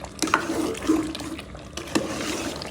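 Water splashes and gurgles as it is poured into a cooking pot of beef, potatoes and whole garlic, a steady close rushing pour with small bubbling spikes.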